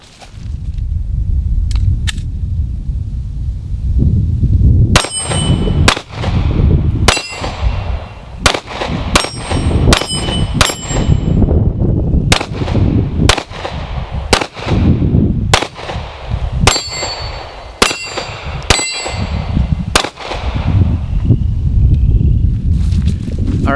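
A Canik TP9SF Elite pistol fires at an outdoor range, giving more than a dozen loud, sharp shots at irregular intervals with bright metallic ringing tails, over steady background noise.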